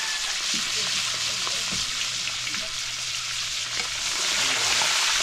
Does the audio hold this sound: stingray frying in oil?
yes